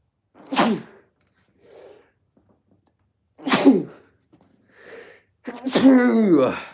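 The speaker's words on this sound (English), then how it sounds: "My first time sneezing on stream, the whole 10 times." Three loud sneezes close by, separated by brief pauses with soft sniffs or breaths, the last one longest and most voiced.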